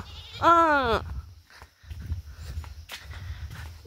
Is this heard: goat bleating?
yes